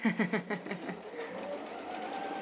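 A sewing machine stitches quilt-as-you-go bag panels with a soft whirring run, heard under a voice at the start and then continuing on its own.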